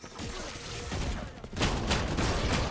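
Rapid gunfire from a Valorant ranked match, dense bursts of shots running nearly throughout, growing louder and busier in the second half with no one talking.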